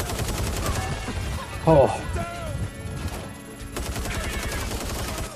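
Mounted gun fires during a heist mission in a video game, a dense burst of shots rising above a busy battle soundscape while a voice briefly exclaims.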